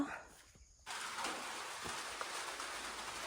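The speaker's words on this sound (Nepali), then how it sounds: "अब यसरी पर्छ पानी" Morning rain falls in a rural village, a faint, even hiss that starts after a brief quieter moment and continues steadily with a few soft drop ticks.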